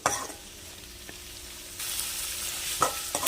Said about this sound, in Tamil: வெங்காயத்தை நல்லா வதக்கி எடுத்துக்கலாம்